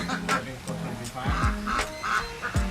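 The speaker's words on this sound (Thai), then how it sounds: "เจ้าเป็ดค่ะ" Several nasal quacks from ducks nearby, irregular and overlapping, with a voice talking between them.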